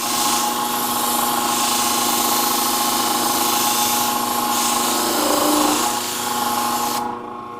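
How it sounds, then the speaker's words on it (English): A Katoku sharpening system grinds a bevel edge onto a pair of shears, a loud steady whirring grind running continuously for several seconds before cutting off near the end. "And now we've finished our grinding."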